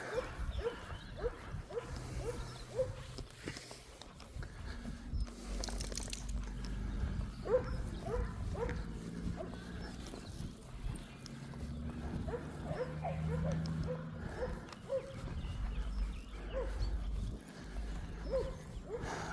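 Dogs barking at a dog park in Martinborough, with intermittent barks and yelps near and far over low rumbling background noise and occasional faint voices.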